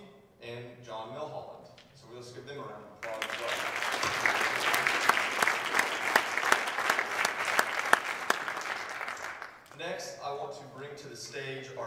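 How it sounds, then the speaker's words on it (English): Audience applause at a high school hall of fame ceremony in a gym or auditorium, about six seconds of loud, dense clapping between stretches of a speaker addressing the crowd. "So let's give them a round of applause as well."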